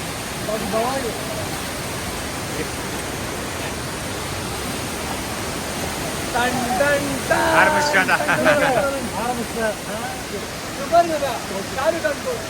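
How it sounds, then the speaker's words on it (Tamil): Chapra Falls roars with a steady, dense rush of falling water, loud and constant throughout, while voices and a few sharp calls break through faintly in the middle. "Chopra falls full view."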